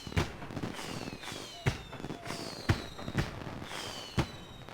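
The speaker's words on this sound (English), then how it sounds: "Fireworks in my honor." Fireworks in the fantasy MMORPG Rift: several sharp bursts at regular intervals, each trailed by whistling, crackling streaks, moderately loud against a steady background hum.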